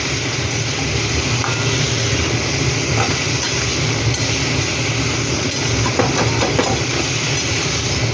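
Water splashes into a very hot kadai holding spices and chili powder, giving a loud, steady sizzle and crackle that fills the whole stretch with a broad hiss and no talking.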